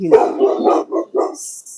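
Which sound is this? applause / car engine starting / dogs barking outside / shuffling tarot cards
dogs barking outside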